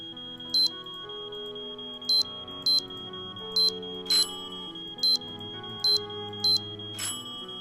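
A high electronic alarm beeps repeatedly in the Nancy Drew game Treasure in the Royal Tower, short evenly spaced tones over a quiet sustained musical background.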